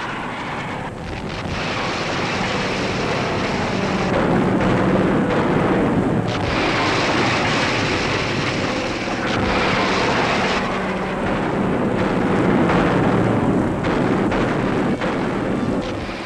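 Warplanes dive on destroyers escorting ore transports in the Arctic during World War II, a loud, sustained roar of engines and blasts with rolling bursts and swells, and no voices.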